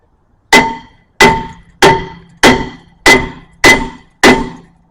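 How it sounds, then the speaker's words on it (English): A hammer pounds a stuck, rusty, warped front brake rotor on a 2016 Mazda CX-5: seven loud, evenly spaced metallic blows, each with a short ringing decay. "give it a couple poundings. Pick up some of that rust."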